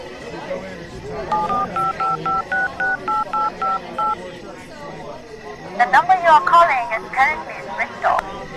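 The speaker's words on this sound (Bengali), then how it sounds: "ফোন করে দেখি।" A run of ten evenly spaced touch-tone beeps as a telephone number is dialed for a call, fairly close and clear over a quiet background, followed by a burst of brighter sound.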